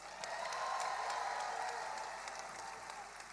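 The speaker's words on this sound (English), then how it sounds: "Give yourselves a round of applause." A large outdoor rally crowd at a mass protest mobilization in Washington, DC applauds and cheers, a broad, distant wash of clapping sustained throughout at fairly low level.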